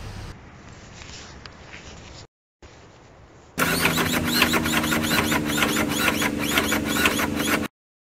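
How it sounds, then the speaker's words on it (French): An old Citroën engine, started after long storage, comes in after a quiet stretch and a short break as a sudden loud, rough roar that runs steadily for about four seconds and then cuts off abruptly. "Et me voilà prêt à démarrer la Citroën."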